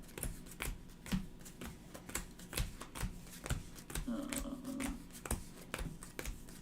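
A deck of Magic: The Gathering cards is riffled and shuffled during a four-player Commander game, giving quick close rhythmic card flutters and taps, with people talking nearby.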